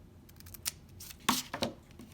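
Scissors snipping apart homemade ion chip pieces, a few quick soft cuts, close and fairly quiet, with small handling clicks between them.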